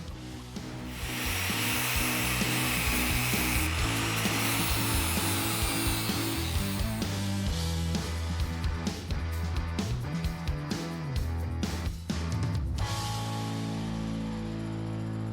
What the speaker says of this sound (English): we just finished up the final grinding we needed to do